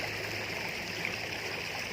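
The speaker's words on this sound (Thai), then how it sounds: "น้ำตกน้อยๆ นะคะ ไหลลงมาเป็นแม่น้ำอย่างใหญ่หลวงนะคะนี่" A small waterfall pours into a river, giving a steady, even rush of flowing water that stays close and continuous without a break.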